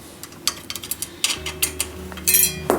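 A dropped metal bolt clinks and rattles on a hard surface in a bike workshop during a Trek 950 ATB restoration: a scatter of sharp, bright ticks near the mic, ending in a louder rattle.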